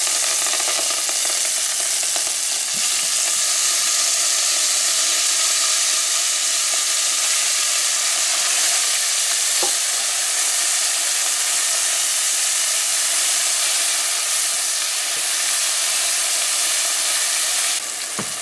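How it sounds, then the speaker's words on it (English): Onions fry in a pan for stewed butterfish, giving a loud, steady, close sizzle that hisses on without a break and with no talking. "after your onions is fried a little bit"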